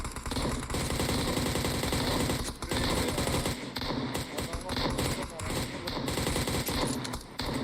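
Sustained automatic gunfire sprays in a PUBG Mobile match, loud and continuous with dense rapid bursts and brief gaps, while players talk over it.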